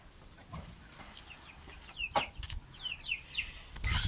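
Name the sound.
chickens clucking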